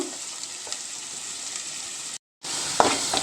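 Onions frying in a pan for mint rice, a steady close sizzle with small stirring clicks, briefly cut to silence before louder crackling resumes.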